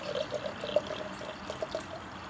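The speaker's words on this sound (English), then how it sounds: "now we're going to fill up with vinegar. This is just plain old distilled white vinegar." Plain distilled white vinegar poured into a container, a soft continuous trickling splash with a faint bubbling tone running through the short stretch, quiet and close, no talking.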